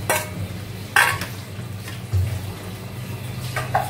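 Ground ginger and garlic, onion and three tomatoes stirred into hot oil in a pan, a soft continuous sizzle broken by a few louder scraping stirs.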